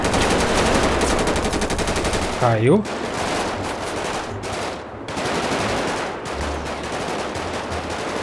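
Sustained automatic machine gun fire in GTA 5 rattles on loudly and almost without pause, briefly dipping in the middle, while someone speaks a single word over the shooting.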